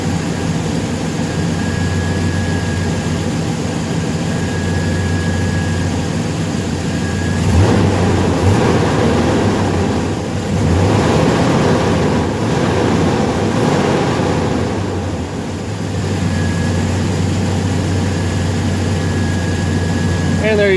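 A 1990 Chevrolet K1500 pickup's 5.7L 350 V8 with a freshly repaired exhaust leak rumbles steadily nearby, swelling in two broader revs midway before settling back to a loud, even idle drone.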